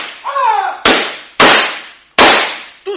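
A bomb lit with a match goes off amid gunfire, heard as three sharp, loud blasts in quick succession, each cracking out and decaying into a rumbling tail, preceded by a brief whining hiss.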